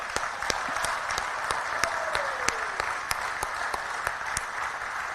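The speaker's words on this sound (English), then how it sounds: "give a big round of applause for everybody that made this project happen" An audience at a factory appreciation celebration in West Virginia applauds steadily, a dense, moderately distant wash of clapping with sharper individual claps popping out, lasting the whole stretch.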